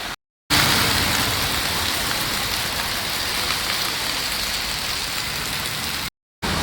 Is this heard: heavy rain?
yes